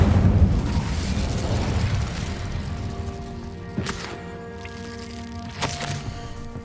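A burst of Incendio fire magic in Hogwarts Legacy, a loud rumbling blast that roars at the start and slowly fades into a low crackle, with two sharp snaps following later.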